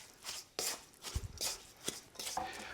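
A vegetarian burger mixture with breadcrumbs, mozzarella, Parmesan and Pecorino Romano is mixed in a bowl, giving close, repeated thuds and scraping squelches at a steady rhythm, about five strokes with no talking.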